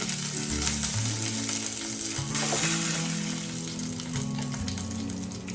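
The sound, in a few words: peanuts, curry leaves and dried red chillies frying in oil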